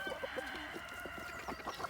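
A backyard flock of chickens, including a Buff Orpington and an Americana hen, clucks in short repeated calls with some rooster-like notes, moderately close and fairly quiet, without talking.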